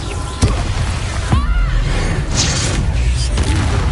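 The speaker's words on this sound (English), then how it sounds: "Explosion!" In Hogwarts Legacy, a magical explosion spell in combat gives a sharp burst, then another thudding blast with a whooshing sweep, under a busy layer of game noise and crackling effects.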